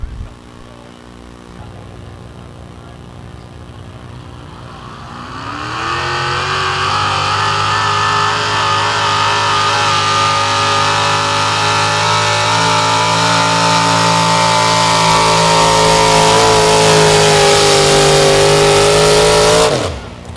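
A Chevrolet truck engine at a truck pull event idles low, then revs hard and holds a loud, sustained roar for about fifteen seconds before cutting off abruptly.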